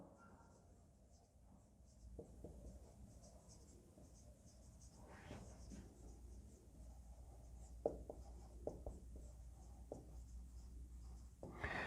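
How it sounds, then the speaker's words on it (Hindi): Marker or chalk writing on a board during an English grammar lesson, a steady soft scratching with short squeaky strokes near the end, fairly close and quiet, no talk. "मैं लिख रहा हूं"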